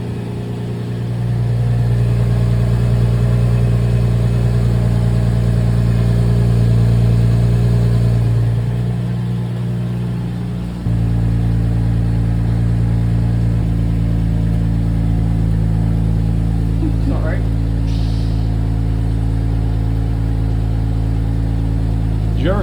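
A car engine warms up with a steady, loud idle, its pitch shifting once partway through, then holding a continuous drone close by. Faint voices come through briefly near the end.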